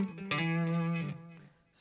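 A distorted electric guitar note, played for a solo tone through basic effects pedals, rings out with a short echo trail of about one and a half repeats that fades quickly instead of ringing on.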